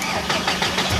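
A 1999 VW Golf MK4 engine turns over and catches after being started with a screwdriver, a close, steady mechanical churn over a short moment.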